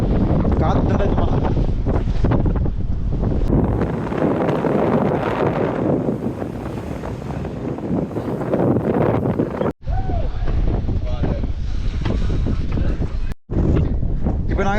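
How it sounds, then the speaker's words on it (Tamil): Strong wind gusts across the hilltop at Ambuluwawa, near Kandy, buffeting the microphone with heavy, continuous low rumbling for most of the time, with brief drops. People talk over the roar. "இப்போ நாங்கள் டொப்புக்கு வந்துட்டோம் கடும் காற்றா இருக்குது"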